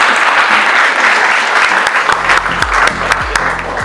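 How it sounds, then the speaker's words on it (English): Seminar audience applauding Professor Izem Fillamore Santillan as she is called up for welcome remarks, a loud continuous burst of clapping with some individual sharp claps standing out near the microphone. "Let's give her a round of applause"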